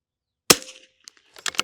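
A rifle firing Eley Ultra Extreme Gen 2 long-range ammunition at an uphill outdoor range: one sharp, loud shot that decays quickly, followed by softer clicks and a brief clatter.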